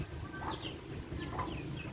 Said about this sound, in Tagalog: May mga kasalong, manok at sisiw ang mga kabayo.